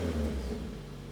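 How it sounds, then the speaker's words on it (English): A tuned car engine idles steadily at close range, a low, even rumble with a slight rise in revs near the start and no voices over it. "And the engine sounds great. The idle's smooth too."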